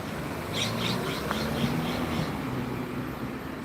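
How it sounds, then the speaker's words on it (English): A bird calls from overhead in a residential street, a series of about six faint repeated chirps over steady background traffic hum. "Some weirdo bird up there."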